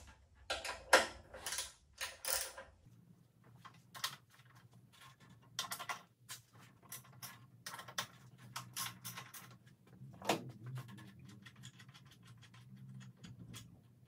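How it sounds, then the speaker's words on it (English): Bolt removal on the fuel tank of a 2016 Indian Scout Sixty motorcycle comes through as quiet metallic clicks, ratcheting and scraping taps scattered irregularly, close and faint. "We're going to start by removing these 4 13mm bolts here."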